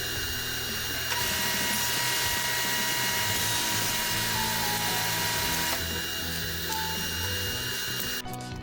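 Table saw blade trimming the base of a maple workpiece, a steady loud whine that holds for several seconds, shifts pitch as the cut begins, then winds down near the end.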